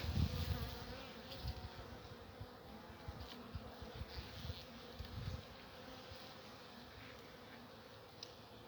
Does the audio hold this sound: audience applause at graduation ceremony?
no